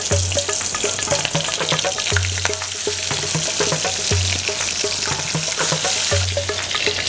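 Koi fish frying in smoking-hot mustard oil, a steady loud sizzle and crackle with repeated stirring or spatula scrapes, close and continuous without talk.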